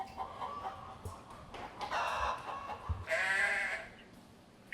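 Chickens clucking and squawking as a tabletop RPG sound effect, several agitated hen calls in short bursts, with one louder burst near the end, heard without any talk.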